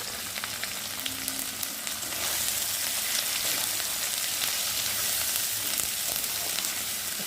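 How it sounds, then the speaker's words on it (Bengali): Spice paste with turmeric and salt being fried in oil in a pan for an egg curry, a steady close sizzle with faint scraping stirs and no talk. "চলো মশলাটাকে ভালো করে কষিয়ে নিই"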